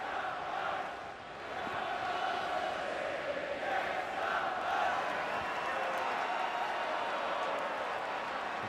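Timbers Army supporters chanting and singing in a stadium crowd at the 2014 MLS All-Star game against Bayern Munich, a dense, steady wash of massed voices that holds loud throughout with a brief dip early on.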